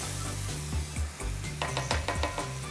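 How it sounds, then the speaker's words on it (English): White wine poured in to deglaze toasted couscous in a one-pot salmon dish, a loud hissing sizzle with bubbling and a few metallic stirring scrapes against the pan, close and continuous. "I'm gonna go ahead and I'm gonna deglaze with a little bit of white wine."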